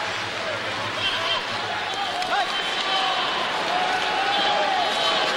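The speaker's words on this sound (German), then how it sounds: "Applaus auf offene Szene." Spectators at a 1990 world championship ice hockey game between the USSR and the USA applaud across a large arena, a steady, dense wash of crowd noise and clapping that stays loud and even throughout.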